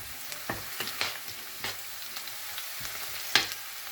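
Ingredients for a Kerala cashew curry sauté quietly in a pan, with a soft, steady sizzle broken by occasional light taps and scrapes of a spoon.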